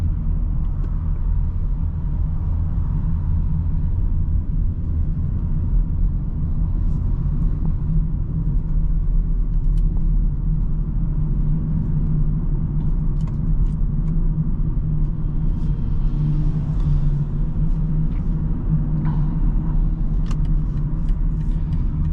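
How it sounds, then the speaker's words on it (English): A 2023 BMW X3 30i xDrive cruising on the highway, heard from inside as a steady, loud low engine and road rumble that holds constant throughout, with only faint ticks above it. "see how this car does on the highway"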